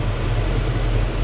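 A truck engine idles roughly and shudders, a loud, close, low rumbling drone with a slightly uneven pulse and no talking.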